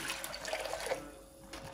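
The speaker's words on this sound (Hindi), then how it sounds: "और यहाँ पे पानी डाल दूंगी।" Water is poured into a pot of lentils and chicken for shami kababs, a soft continuous splashing and trickle, faint and close, with no one talking.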